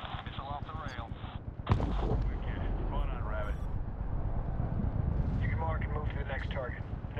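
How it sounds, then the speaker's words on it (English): Hellfire missiles launched at moving targets in the Medal of Honor video game, a sudden whooshing blast of a missile leaving the rail over a steady engine drone, with radio chatter talking throughout. "Use Hellfires on the moving targets, Rabbit."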